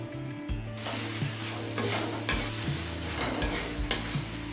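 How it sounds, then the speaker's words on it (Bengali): A spice paste mixture is stir-fried in a pan, sizzling loudly and steadily while a utensil scrapes and stirs with a few sharper knocks against the pan, over a low background hum, with no talking. "এবারে সব কিছু খুব ভালোভাবে কষিয়ে নেবো"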